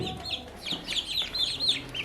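A flock of chickens, mostly young roosters on a poultry farm, clucks close by in a busy run of short, overlapping calls, with no voices.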